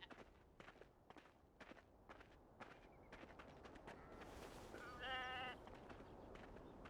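A sheep in the Beyond: Two Souls video game lets out one clear, nasal bleat midway, set against a run of crunchy footsteps on the ground and no talk.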